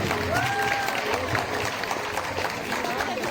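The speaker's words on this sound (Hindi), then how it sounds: "आपकी जोरदार तालियों की आवाज आनी चाहिए" Loud applause and crowd noise at a children's Christmas program, continuous clapping with a voice briefly audible over it.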